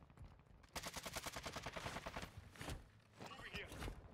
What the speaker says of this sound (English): Trying to try all my guns now.